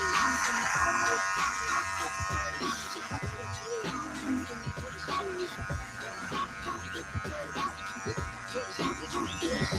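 Electric hair clippers fitted with a 1.5 guard and the taper lever closed, buzzing steadily and close while cutting hair, the hum wavering as the blade moves through it.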